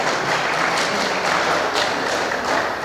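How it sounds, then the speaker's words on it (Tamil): An audience at the AVM Studio opening claps hard and continuously, a dense, loud, close wash of many hands with no pauses. "ஆகவே நல்லா கைதட்டுங்க"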